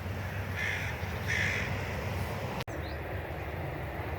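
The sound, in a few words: birds singing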